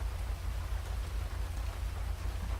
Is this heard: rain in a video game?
yes